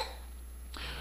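A young girl gives a single short cough, close and fairly quiet, in a brief moment against a low steady hum.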